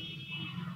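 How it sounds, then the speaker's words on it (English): A small buzzer powered by a single solar panel gives a steady, continuous electronic beep tone, close and moderately loud, with no talk. "produce a beeping sound of this buzzer through a single solar panel"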